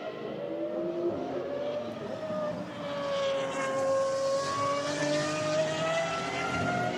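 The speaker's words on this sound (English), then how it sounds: "Sounds a bit better now that he's got his foot down the main straight here in Barcelona." A GT race car's V12 engine accelerates hard down the main straight at Barcelona, its rising note climbing through the gears as it passes at a moderate distance, heard alone with no voices.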